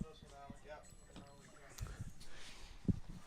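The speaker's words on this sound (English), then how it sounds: "So we hear a boat coming in" Motorboat coming in on a water ski course at a pro-am tournament, a low engine rumble and water wash building toward the end, with commentators talking over it.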